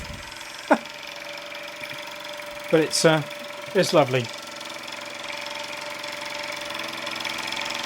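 A Luton Bowman PW201 model steam engine runs with a low, steady mechanical hum and faint rhythmic ticking, while someone talks briefly over it.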